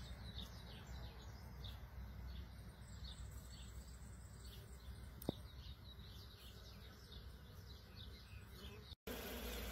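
A faint, steady hum of many bees swarming around queen-rearing mating hives for Italian and Buckfast queens after rain, with occasional bird chirps outdoors.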